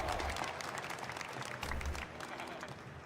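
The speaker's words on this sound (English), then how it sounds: "Clap, clap, clap." Faint audience applause at the EVO fighting game tournament finals, a soft wash of clapping from a crowd heard at a distance for a few seconds.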